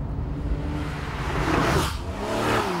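Porsche 911 Carrera 3.4 (991) with a 350-horsepower engine and seven-speed manual gearbox, revving on a mountain road; a loud, steady engine drone with rising pitch and rushing wind, building slightly toward the end.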